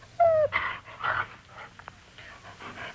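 A dog whimpers softly with a brief high whine, followed by faint panting and small whimpers against a quiet indoor background.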